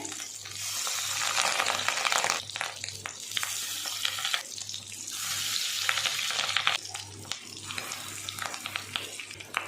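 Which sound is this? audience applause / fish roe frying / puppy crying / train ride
fish roe frying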